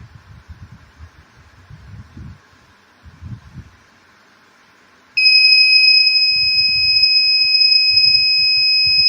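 An Arduino-based security system's piezo buzzer starts a loud, continuous high-pitched tone about halfway through and holds it steadily to the end, following quiet handling and rustling noises.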